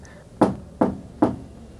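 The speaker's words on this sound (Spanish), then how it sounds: "en la mitad de la madrugada tocaban a la puerta principal, como si alguien quisiera entrar" Three heavy, evenly spaced knocks land on a house's front door, each a close, dull thud with a short ringing decay, otherwise quiet.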